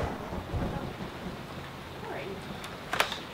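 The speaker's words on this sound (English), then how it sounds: "And there's the rain. That sound can only mean one thing. It's now raining." Steady rain falls with a low rumble of thunder beneath, a dense hiss of drops throughout and a few sharper taps near the end, while voices talk faintly over it.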